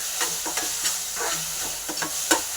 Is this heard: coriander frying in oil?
yes